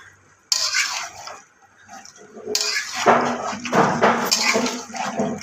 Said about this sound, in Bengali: কিছু একটু নাড়িয়ে দিলাম